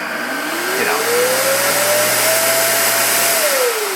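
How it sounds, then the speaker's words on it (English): A Raycop RS Pro UV allergen vacuum cleaner runs steadily with a loud broadband whoosh and a motor whine that rises in pitch, then levels off and dips slightly near the end. "it's about the sound of a regular vacuum"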